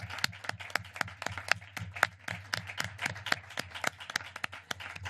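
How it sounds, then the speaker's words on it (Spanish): Scattered applause at a commemorative gathering on democracy and memory: a small group clapping in quick, uneven bursts, fairly close and moderately loud, with no voices over it. "Un fuerte aplauso."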